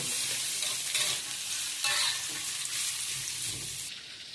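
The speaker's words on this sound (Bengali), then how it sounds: "শুরু হয়ে গেল কষান।" Spices stir-frying in a hot pan for a hilsa fish curry, a loud continuous sizzle with scraping stirs and a few sharper crackles, no talking over it.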